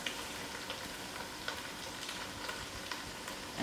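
Ginger garlic paste frying in oil with nearly cooked onions for a vegetable biryani, giving a steady, moderate sizzle throughout with faint stirring clicks and no voices.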